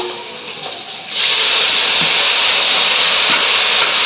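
Green chilies hit hot oil in a home kitchen, and a loud, continuous hissing sizzle bursts in after about a second of quieter background and holds steady to the end.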